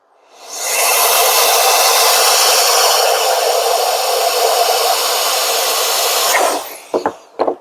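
Forceful blast of air blown through a clogged furnace condensate drain line, a loud steady whooshing rush lasting about six seconds before cutting off, followed by a few short sputtering bursts.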